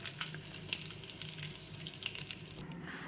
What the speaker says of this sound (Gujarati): હવે આપણે એકવાર હલાવી દેવાનું છે આને।